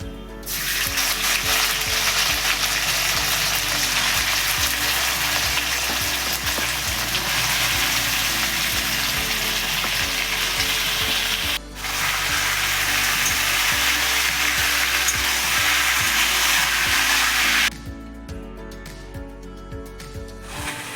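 Loud, steady sizzling fills the clip as seasoned cabbage fries hard in hot oil in a wok, briefly interrupted and then quieter toward the end.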